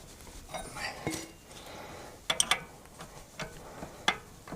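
Tight nut turned with an 18 mm wrench during wheel toe adjustment on a vehicle, giving a few close metallic clicks and clanks with scattered rattles and soft handling noise in between.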